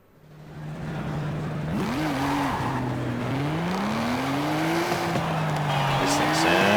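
Engine of a car in Forza Horizon 5 revving and shifting through gears, its pitch sweeping up and down, with brief tire squeal; loud and steady throughout with no talk.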